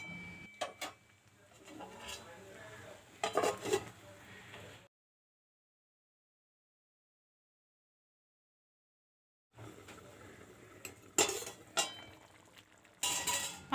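A spoon stirs and scrapes through ridge gourd curry in a metal pot, sparse clinks and scraping bursts that are faint and close, broken by a long silent stretch in the middle.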